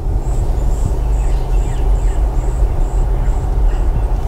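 A lively forest nature soundscape plays through the speakers of a 2022 Hyundai Sonata N Line, a steady bed of ambience with a repeated high chirping bird call pulsing evenly over low cabin rumble.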